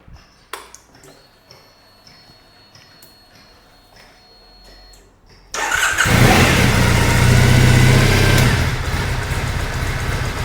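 A Triumph Bonneville motorcycle engine is switched on after a few faint clicks and electronic pings, catching and settling into a loud, steady idle nearby.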